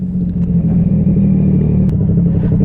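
A 2021 Yamaha MT-09 motorcycle out riding, its engine a loud, close, steady rumble with a throbbing low drone and slight rev changes, continuous throughout.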